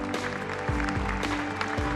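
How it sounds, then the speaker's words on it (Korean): An audience applauds at the KF-21 prototype rollout ceremony at the Korea Aerospace Industries plant, with dense, continuous clapping and a faint steady tone underneath. "큰 박수 부탁드립니다"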